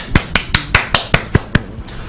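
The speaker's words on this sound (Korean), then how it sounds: "박수 한번 칠까요?" Eight evenly spaced sharp claps from a single pair of hands, close and crisp, with a steady rhythm and nothing else behind them.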